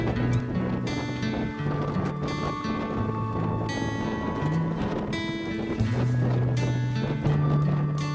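A sailboat under way along the Martinique coastline toward St. Lucia, with steady wind rushing over the microphone, water wash against the hull and tonal creaks and hums from the rigging.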